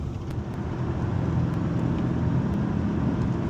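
An HSV VE Maloo R8 ute cruising on an Australian highway, its engine a steady low drone blended with constant road and tyre roar from inside the cabin, loud and unbroken.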